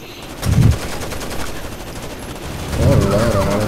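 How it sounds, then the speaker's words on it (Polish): Bursts of automatic gunfire from Rainbow Six Vegas 2 rattle out in two clusters, one near the start and one near the end, with a steady game background between them. "tu strzelają"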